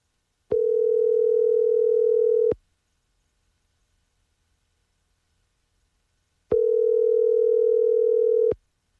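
A telephone line tone rings out while a radio sports show calls a coach: two steady two-second tone bursts separated by a long silence, clear and alone with no voices.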